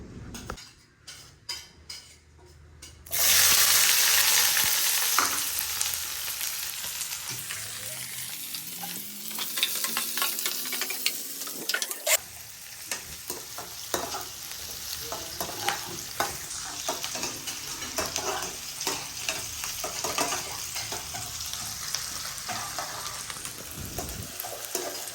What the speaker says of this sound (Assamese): ভাজি আছোঁ পিঁয়াজখিনি